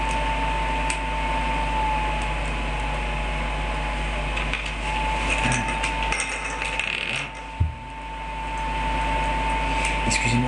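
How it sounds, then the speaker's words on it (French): A computer cooling fan drones in a steady, faint whine with a low hum beneath, broken by a few soft clicks and knocks from handling a Mega Bloks toy. "Excusez-moi pour le bruit de l'ordinateur,"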